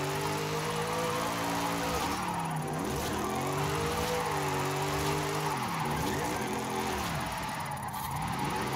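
A rear-wheel-drive car with strong torque in Forza Horizon 5 revs hard and slides, its engine note rising and dipping in sweeping waves with tire noise throughout, loud and continuous.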